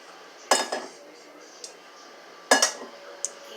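Potatoes and onions tumble into a metal pot in two sharp clattering drops about two seconds apart, each followed by a short rattle and a few faint clinks.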